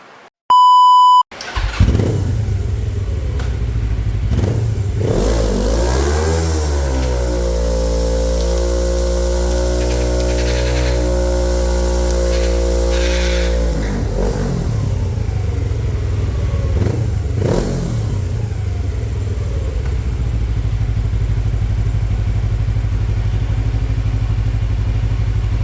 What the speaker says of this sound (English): That little burnout did all this smoke